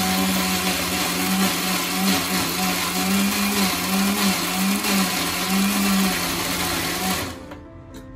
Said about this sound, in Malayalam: മിക്സി ചൂടാവാതിരിക്കാനായിട്ട് നമുക്ക് ഐസ് കൂടെ ഇട്ട് അരയ്ക്കാം.